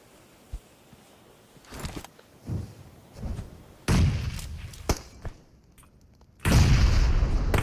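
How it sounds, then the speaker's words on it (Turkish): Grenade blasts in a first-person shooter game, a series of dull booms and thuds of rising force, ending in two loud, sustained bursts, with no talking. "Bomba atacağım. İleri bomba atıyorum."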